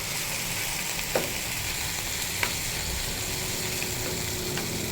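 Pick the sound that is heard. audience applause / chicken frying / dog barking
chicken frying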